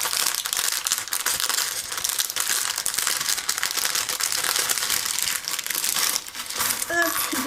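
Plastic packaging from an AliExpress order crinkles and crunches continuously up close as it is torn open, loud and busy throughout, with a faint voice briefly at the end.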